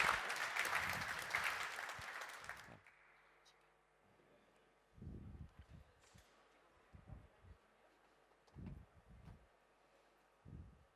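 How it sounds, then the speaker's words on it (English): Audience applause for panelists at a crypto-exchange conference panel, a dense burst of clapping for about three seconds that then stops abruptly, leaving a quiet room with scattered low thumps and brief voices. "let's give a round of applause to our panelists"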